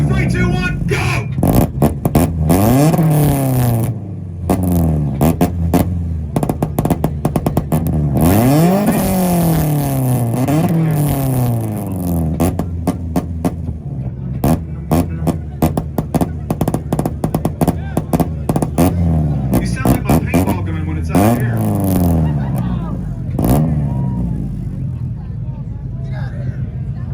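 A Subaru revs hard at a two-step rev battle at an outdoor car meet, with repeated sharp rising engine pulls and rapid machine-gun-like limiter pops over a crowd, loud and close, with people shouting and talking throughout.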